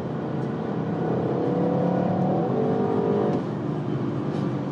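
Audi RS6 tuned by Prior Design accelerating, its engine revving in a loud, steady rising drone heard from inside the car, easing off toward the end.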